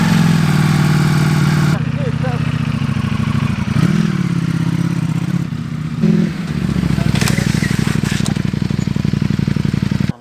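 Ducati Panigale motorcycle engine running steadily near and loud, with blips and a brief rev change midway, and people talking over the mechanical clatter.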